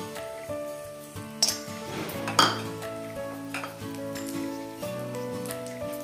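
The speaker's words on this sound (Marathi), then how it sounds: "सुकं खोबरं भाजू" Dried coconut slices roast in ghee in a pan, with a metal spoon scraping and clinking against the pan a couple of times over steady background music and a faint sizzle.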